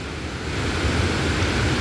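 Crescent Falls waterfall in Alberta, Canada, running with muddy water, heard as a steady, broadband roar that holds constant throughout, with no voices.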